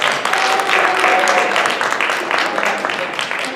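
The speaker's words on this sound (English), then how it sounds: "Can we give them a little round of applause?" Steady, fairly loud applause from an audience at a school board meeting, honoring a group of fifth graders, a dense wash of clapping sustained throughout and tapering only slightly near the end.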